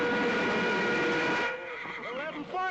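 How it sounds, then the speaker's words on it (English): A horse neighs in a 1963 Western comedy, a loud whinny with a trembling, descending tone that fades into a few shorter wavering calls near the end. "That Agamemnon's a good horse."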